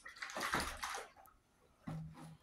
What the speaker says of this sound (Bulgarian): И наблюдаваме истински водовъртеж.